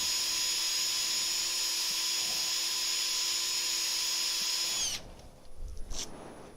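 Turned piece being sanded with 180-grit abrasive on a spinning wood lathe at a turning demonstration: a steady loud whine and hiss with a tonal hum, then the lathe cuts off and spins down near the end.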